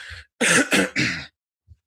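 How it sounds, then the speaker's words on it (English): A person coughs three times in quick succession, close and fairly loud, followed by a faint short throat sound after a pause. "Sorry, got a little bit of a cough."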